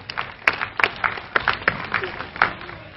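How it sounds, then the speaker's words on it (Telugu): An audience claps to welcome guests at the start of a Nataraja puja dance competition event, a moderate scattered applause with irregular individual claps, fairly close and fading slightly. "అందరూ చప్పట్లతో వారిని స్వాగతం పలకవలసిందిగా కోరుతున్నాం"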